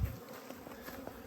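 Honey bees buzz steadily at a hive with a feeder in it, a close, continuous drone of many insects with no talking.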